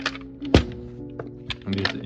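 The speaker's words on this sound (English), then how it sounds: "hammer and screwdriver." A sharp thunk of a hammer striking a screwdriver while prying a VVT solenoid on a 2014 Ford Focus SE engine, followed by a few lighter taps and small metallic knocks nearby.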